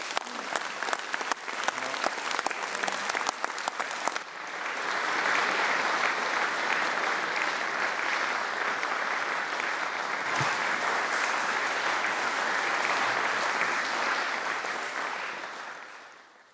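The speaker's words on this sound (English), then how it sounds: "deaf people in the public gallery applauding MSPs" Deaf visitors in a parliamentary public gallery applaud MSPs after a British Sign Language bill debate; scattered claps at first swell into full, sustained applause that fades near the end.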